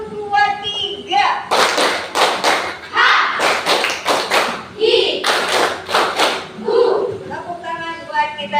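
A classroom of children claps a rhythmic counting game, bursts of sharp claps in groups of one, two and three, alternating with a teacher's voice between rounds.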